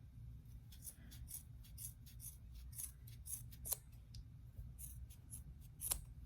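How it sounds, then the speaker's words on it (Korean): Scissors snip repeatedly through cord to make a beaded bag tassel, a quick irregular series of crisp close cuts over a steady low background hum, with two louder snips near the end. "쭉 이제 가위로 잘라주도록 할게요"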